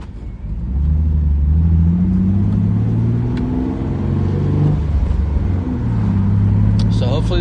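A 1999–2004 Ford Mustang V6, freshly fitted with a replacement starter, drives around the block, its engine humming close and steady, rising and falling as it accelerates and eases off.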